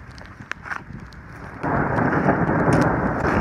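Thunder rolls during a lightning storm outdoors, a faint early crack followed by a loud, sustained rumble mixed with rain from midway on.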